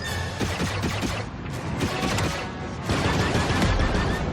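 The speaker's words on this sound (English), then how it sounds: "Turret activated, Kay." Sustained turret blaster fire in the Star Wars Outlaws game, dense and loud with repeated bursts layered over rumbling mechanical noise and crashes, continuous throughout with no speech.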